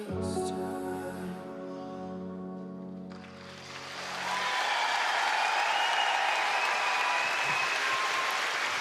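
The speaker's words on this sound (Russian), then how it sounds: "Искренне аплодируем в завершении этих соревнований Глебу Лутфуллину и всей его тренерской коман" At a Russian Grand Prix figure skating event in Kazan, a broad wash of crowd applause swells up after music fades and holds steady and loud through the rest of the clip.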